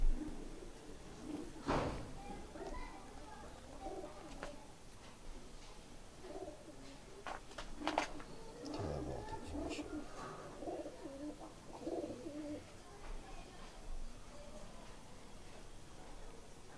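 Bankay pigeons cooing with dark black eyes, soft repeated coos scattered across the clip at moderate distance amid light background noise.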